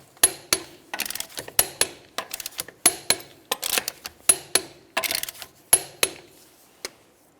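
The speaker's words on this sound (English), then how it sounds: "Let's go ahead and torque these in a crisscross manner." Torque wrench tightening wheel lug nuts on a Toyota Solara, a series of sharp metallic clicks and ratcheting snaps in uneven bursts, close and fairly loud, with no talking.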